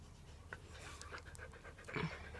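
A dog pants in quick, faint, breathy puffs close by against low background noise, with a louder rustle near the end.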